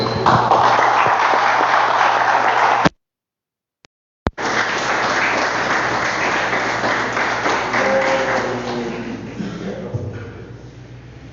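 A church congregation claps together in dense, steady applause during a worship service that cuts out briefly, then resumes and slowly fades toward the end.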